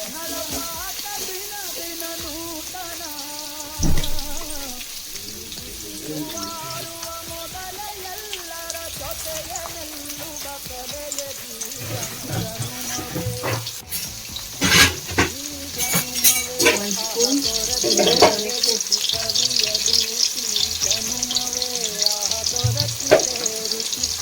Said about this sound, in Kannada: ಸ್ವಲ್ಪ ಗೋಲ್ಡನ್ ಬ್ರೌನ್ ಕಲರ್ ಬರೋವರೆಗೂ ಫ್ರೈ ಮಾಡ್ಕೋಬೇಕು.